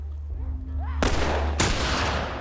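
Gunfire in the video game The Last of Us: two sharp, loud broadband shots about half a second apart, each followed by a sustained noisy tail, with a low game hum beneath.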